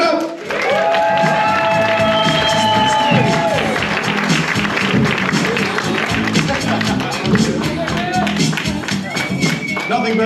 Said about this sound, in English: Give a big round of applause, start right now, for Osborn.